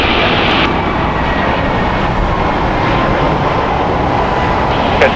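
A large jet rolls along the runway at Los Angeles International Airport on landing, a loud steady engine roar and rushing noise filling the whole stretch without a break.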